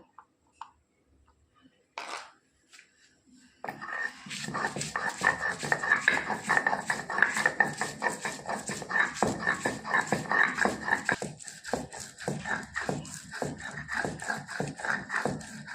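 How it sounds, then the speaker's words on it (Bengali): Ginger and garlic are ground together by hand on a stone, a steady rhythmic scraping and grinding that starts after a quiet moment and continues close and clear, no talking. "এবার বেটে নেব আদা। এর সাথে রসুনও একসাথে বেটে নেব।"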